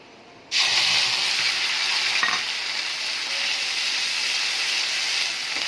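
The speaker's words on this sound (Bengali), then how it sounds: "ভালো করে নেড়ে চেড়ে এবার দিয়ে দেবো পেঁয়াজ বাটা।" Onion paste hits hot oil with dried red chillies, cardamom, cinnamon and cloves, bursting into a loud, steady sizzle that carries on with a faint scrape of stirring partway through.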